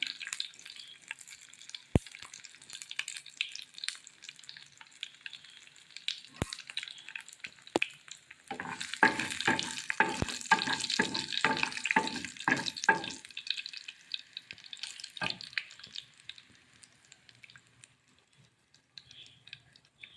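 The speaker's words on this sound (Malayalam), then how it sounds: "ഇതിലേക്ക് കുറച്ച് കറിവേപ്പിലയും വറ്റൽമുളകും കൂടെ ഇട്ട് കൊടുക്കുകയാണ്" Curry leaves and dried red chillies dropped into hot oil for Kerala koottu curry, crackling and sizzling loudly in a burst of dense spattering that rises, peaks, then fades back to sparse pops.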